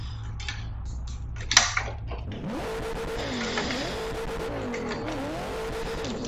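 A four-door Nissan R32 revs up for a skid: after a brief quiet idle with a few clicks, the engine climbs into a sustained, rising and wavering roar with tyre noise, loud and near, no talk.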